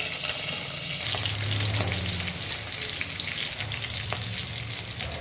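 Cumin seeds and cut green chillies sizzle in hot oil, a dense continuous crackle like light rain, close and steady throughout with a few faint stirring knocks, no talking.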